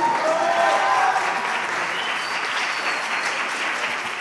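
Audience at a citizens' debate final applauds a student debater from a Miraflores school, a dense, steady burst of many hands clapping together that holds strong for about four seconds before easing slightly.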